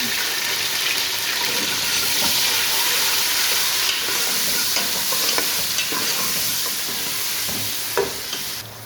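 Onions sizzle and fry steadily in hot ghee in a pot, a loud continuous crackle close up with occasional stirring scrapes throughout.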